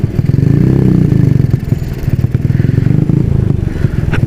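A Honda Supra motorcycle engine fitted with a new, quieter silencer idles and revs close by, a loud steady rhythmic putter that swells briefly, with mechanical clatter and no talking.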